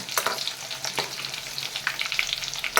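Coriander and roasted peanut vadis fry in oil over a medium flame, a close, crackling sizzle with bright pops and occasional scraping stirs.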